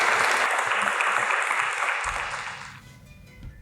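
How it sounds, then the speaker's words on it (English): An audience at a live event in Nottingham Central Library gives a round of applause, dense close clapping that holds steady and then thins out and fades toward the end. "Can we have a round of applause for Chanel"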